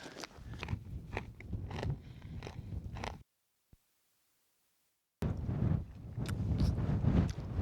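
Close, crunchy chewing of a small snack with a steady rhythm of bites, broken by a brief silent pause before the munching resumes; faint wind rustle underneath, outdoors in the Alps.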